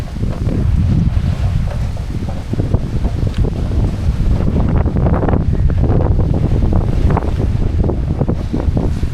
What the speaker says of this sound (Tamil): கடும் காற்று.